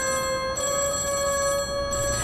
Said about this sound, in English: Don't answer the phone, Eddie.